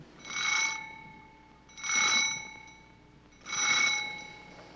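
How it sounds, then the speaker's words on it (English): A doorbell chimes three times at a steady pace, each ring bright and ringing with a clear tone before fading, against a quiet room. "The doorbell's ringing, dear."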